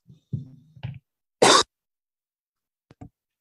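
A person with lingering COVID coughs once in a short harsh burst, near and fairly loud, after a few low throaty vocal sounds, with a faint brief throat noise following.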